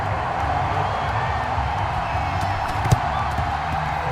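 A large stadium crowd at a Cowboys versus Packers American football game roars steadily throughout, a dense wall of cheering and shouting with one brief sharp spike near the end.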